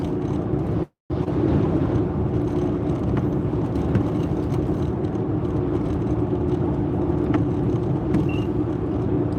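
A car with four-wheel drive tyres drives along a wet road on a rainy day, a steady close tyre hiss and engine rumble from inside the cabin, briefly cut out near the start, with no talking.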